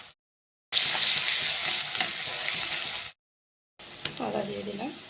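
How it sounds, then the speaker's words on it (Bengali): Garlic tipped into a pan of frying onions sizzles loudly for a couple of seconds, cuts out briefly, then returns with a softer sizzle as a voice talks over it, for a home-style potol chingri (pointed gourd and prawn) curry. "পেঁয়াজগুলো ভাজা ভাজা হয়ে গেছে, রসুন দিয়ে দিলাম"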